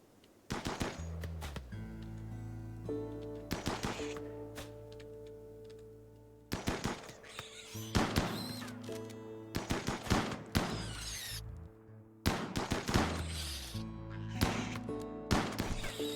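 Gunfire from the video game Rimworld comes in rapid bursts of shots separated by short pauses, set over a steady tonal game music bed.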